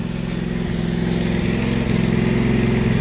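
Lawn mower engine running steadily at close range, a loud continuous mid-pitched drone with a slight wavering as the machine is moved onto a trailer.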